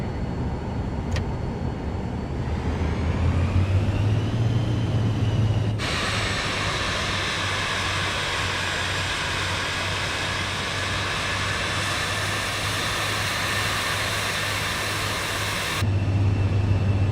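The single jet engine of a Cirrus Vision Jet in Microsoft Flight Simulator 2 before takeoff, a steady low hum joined by a loud high whine as the engine spools up, then holding level.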